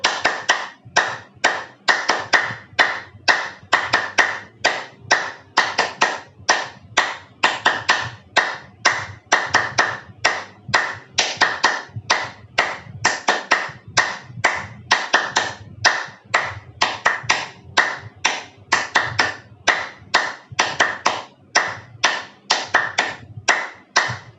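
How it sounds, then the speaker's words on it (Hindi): One person claps hands in a steady rhythmic pattern after a breathing exercise, loud close crisp claps grouped in repeating counts and running continuously for over twenty seconds. "तो तालियां भी हमने लय के साथ मारनी है"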